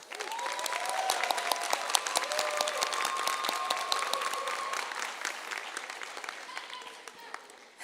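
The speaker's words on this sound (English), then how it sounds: "Let's give them a round of applause." An audience at an adult and family education commencement in Colorado Springs breaks into sustained applause, a dense steady wash of clapping that fades slightly toward the end, with no speech over it.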